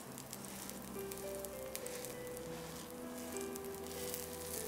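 Potato and grated capsicum pancake sizzling gently in a pan over a low flame, a steady soft crackle and hiss throughout with no talk.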